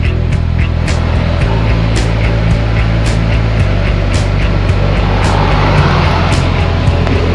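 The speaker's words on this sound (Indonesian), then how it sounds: "Maingay yung pan motor." An aircon outdoor unit's fan motor with a worn bearing runs loudly and continuously, a droning hum with a shifting low tone and regular faint ticking clicks repeating roughly every half second, no voices.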